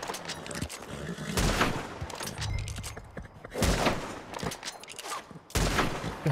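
Gunfire from a Red Dead Redemption 2 RedM roleplay shootout, several loud sharp shots spaced irregularly across a few seconds with rumbling background noise between them.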